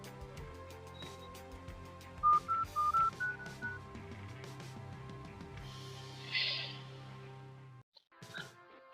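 A short run of electronic dial tones beeps in quick succession over a low background hum, followed by a faint ringing tone.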